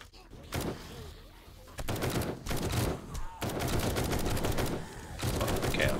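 Sustained gunfire in the survival game 7 Days to Die, loud bursts of rapid shots in several long stretches separated by short pauses, with no voice over them.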